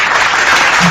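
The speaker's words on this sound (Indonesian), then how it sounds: "Tepuk tangan." A short burst of audience applause, a dense and loud wash of clapping heard alone, at a religious preaching event.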